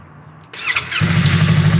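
A Yamaha motorcycle engine on a lithium LiFePO4 battery cranks briefly, then catches and settles into a loud, steady close-up idle that continues to the end, with no talking.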